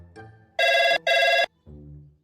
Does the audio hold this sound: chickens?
no